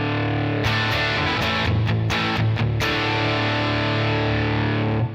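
Electric guitar played through a compressing amp with the volume pedal's linear mode off, dense distorted chords ringing steadily and loud for several seconds after a brief quiet start, with a few choppy accents midway.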